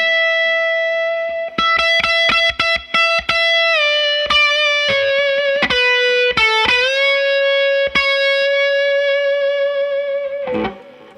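Vintage 1958 Gibson ES-335 electric guitar played with clean, sustained tones, a run of plucked notes and chords ringing close and loud with thumping bass and bright harmonics, alone without talk, ending on a brief strum.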